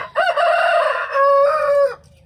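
A backyard rooster crows once, close and loud: a long, strained cock-a-doodle-doo that breaks briefly and trails off into quiet, with no voices.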